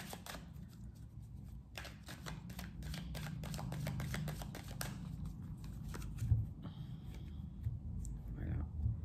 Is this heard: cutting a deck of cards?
yes